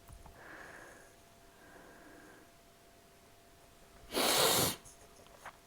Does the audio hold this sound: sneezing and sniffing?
yes